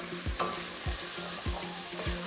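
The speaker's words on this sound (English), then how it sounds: "Give that a stir." A spoon stirs herbs and aromatics in a soup pot for a collard green, white bean and ham hock soup, scraping in four evenly spaced strokes over a steady sizzle, close and clear with no talking.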